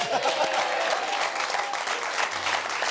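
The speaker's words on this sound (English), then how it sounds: "Give him a clap" A studio audience on an Australian football talk show claps and cheers for a young player, dense sustained applause filling the room throughout, with a voice briefly audible over it.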